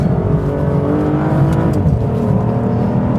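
An Aston Martin DBS Volante sports car engine roars on a race lap, accelerating hard with a loud, sustained exhaust note that rises in pitch under throttle, close and unbroken.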